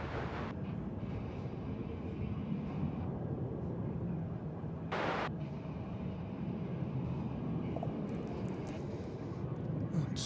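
An airliner taking off at Dallas/Fort Worth Airport, a steady broad engine roar holding throughout at moderate distance, with a brief higher burst of noise near the middle.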